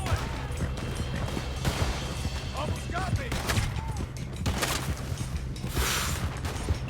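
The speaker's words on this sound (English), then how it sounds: "Did you hear those bullets whooping past that head?" A Red Dead Redemption 2 gunfight, with bullets whizzing past amid dense, continuous gunfire and crashes, and voices shouting throughout.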